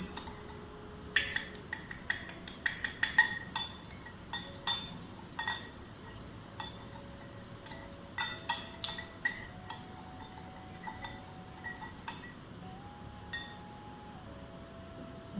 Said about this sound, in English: we will make the solution by stirring it properly